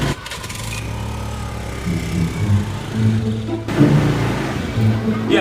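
A motorcycle engine coughs and turns over unevenly, running roughly before cutting out, close and loud, while people talk over it.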